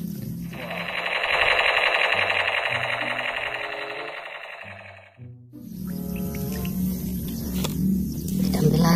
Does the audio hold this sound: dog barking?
no